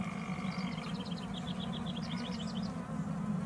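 Honeybees buzzing steadily around an open hive during a beekeeping inspection, a continuous close drone with higher whining passes of individual bees weaving through it, no talking.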